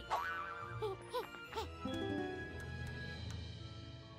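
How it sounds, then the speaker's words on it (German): Cartoonish springy boing-like sound effects in the video game Yooka-Laylee, meant as fart noises, a few wobbling bursts over a faint game soundtrack. "jetzt habe ich hier doch echt Furzgeräusche gehört"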